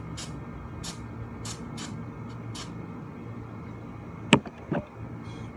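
Flammable spray from an aerosol can used for fire photography, several short hissing bursts in an irregular rhythm under outdoor background noise, then a couple of sharp clicks and a brief thud near the end.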